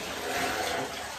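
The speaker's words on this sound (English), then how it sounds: "Come on, time to go to the shower now." Shower water runs steadily while a yellow Labrador Retriever puppy is bathed, a close, even spray hiss heard alone.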